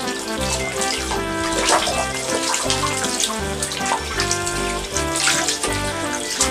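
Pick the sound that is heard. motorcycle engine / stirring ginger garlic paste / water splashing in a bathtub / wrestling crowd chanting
water splashing in a bathtub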